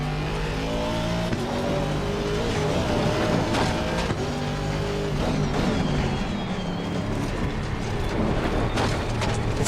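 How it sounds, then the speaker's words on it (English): A racing car engine in the Forza Horizon 6 driving game revs and accelerates continuously, loud and close, with rising and falling pitch sweeps, shifts, and rattly mechanical texture throughout; no speech. "sounds of the, you know, the rattling in the car are so great"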